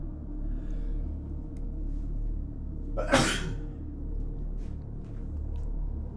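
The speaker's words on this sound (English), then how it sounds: "I gotta sneeze now." A single loud, sharp sneeze bursts out midway, standing out against a steady low background hum.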